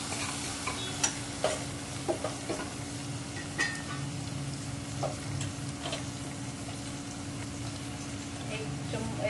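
Onion and tomato simmer in a pan for a Marathi black-eyed bean curry, giving a low constant sizzle under a steady hum, with scattered stirring clicks and scrapes throughout.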